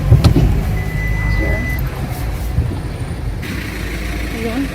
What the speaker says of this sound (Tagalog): dito na tayo magpa-park dahil mahirap ang parking dito